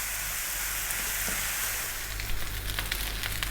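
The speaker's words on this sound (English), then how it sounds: "That there is your rice frying." About three cups of basmati rice fry in oil in a pan, giving a dense, steady sizzle with crackling pops growing busier toward the end, close and fairly loud.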